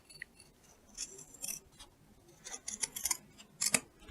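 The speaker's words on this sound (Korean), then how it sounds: "가위로 얘를 일단 이렇게 해서 잘라주세요" Scissors snip through padded fabric for a quilted drawstring pouch, a series of crisp, quiet cuts in irregular bursts, close by with no talking.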